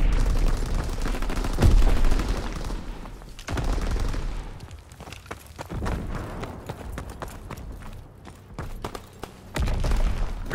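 Artillery and gunfire from a Call of Duty WWII hardcore team deathmatch, with repeated heavy booms and bursts of rapid shots, loud and close, alongside rumbling impacts across the clip.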